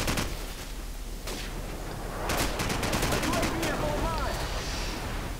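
AK-47 automatic fire in Call of Duty 4, sharp rapid bursts of several shots in quick succession, loud and close, with other faint game noise around them and some talk in the background.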